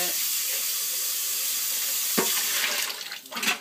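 Water runs steadily from a tap over a juicer part being rinsed at a sink, a broad continuous splash with a couple of brief knocks and clatters near the end.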